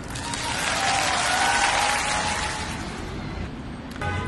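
Steady applause from a crowd rising to a dense peak and easing slightly, continuous clapping throughout, fairly close and loud, with no voices over it.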